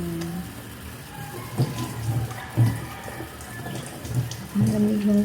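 Cold tap water running steadily while someone washes their face, a soft continuous splash with a few louder bursts of splashing and dripping, close by and with no talking.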